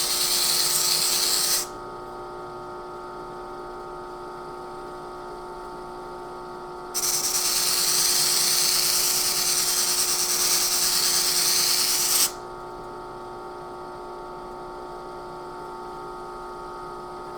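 A flap wheel polishes the metal ball guide rails of a The Shadow pinball machine: two stretches of loud, hissing abrasive grinding ride over a steady motor hum that continues between them.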